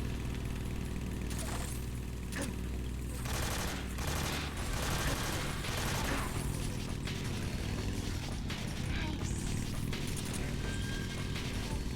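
Dense video game gunfire shooting at a log, a loud continuous barrage of rapid shots layered over a busy game soundscape throughout.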